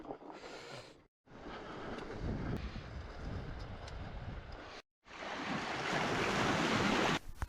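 Surf washes onto a seaside shore with the tide out, a broad steady roar of waves mixed with gusty wind buffeting the microphone, briefly cutting out twice.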